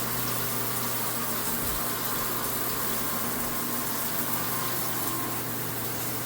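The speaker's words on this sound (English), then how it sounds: "I'll rinse this stuff down." Steady rushing water rinsing debris down a sewer drain after a stoppage from a dislocated pipe, a continuous even gush with a low pump-like hum running unbroken throughout.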